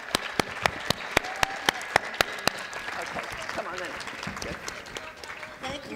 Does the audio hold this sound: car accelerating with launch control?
no